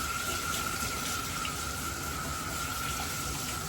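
Steady running water from a tap pours close by as toy Schnoodle puppies are rinsed during a bath, a continuous broadband splash with a thin whistling tone riding on top and no talk over it.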